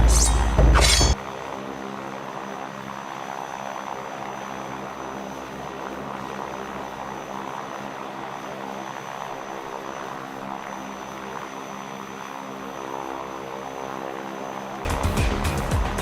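A propeller airplane engine drones in a Red Steel Wii video game cutscene, a steady loud hum with a sharp burst at the start and another near the end, continuous and without speech.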